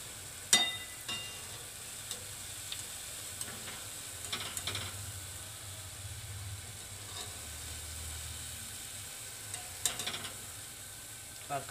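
Gulgule, sweet jaggery fritters, fry in hot oil with a soft, continuous sizzle, punctuated by occasional clicks and taps of a utensil stirring nearby.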